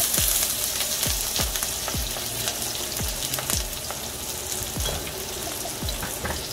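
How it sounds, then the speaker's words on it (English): Onions and thyme sizzle in oil in a wok, a steady close frying hiss broken by regular sharp clicks of a utensil against the pan roughly every half second. "And I'm sauteing some onions and some oil"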